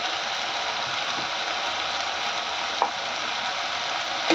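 Grated coconut and garlic fry in an oiled pan, a dense continuous sizzle close up with a couple of brief stirring clicks, no speech.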